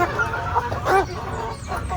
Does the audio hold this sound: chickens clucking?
yes